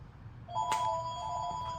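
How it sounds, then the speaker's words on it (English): A telephone rings with a steady electronic tone, starting partway through and continuing to the end, clear and fairly close. "answer the phone, brother, please."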